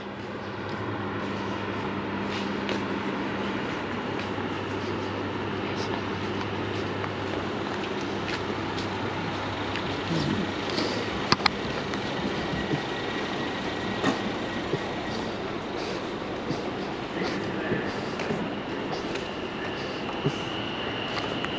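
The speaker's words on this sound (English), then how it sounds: "There's the Overground over there, behind the fence." A London Overground train passes behind a fence beside new high-rise buildings, producing a continuous low rumble at a moderate distance that stays steady throughout, with a few faint clanks.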